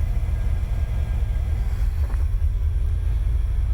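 A 1982 Ford Capri RS engine idles slightly high, a steady low rumble that runs unbroken and fairly loud from start to finish with some wind-like hiss on top.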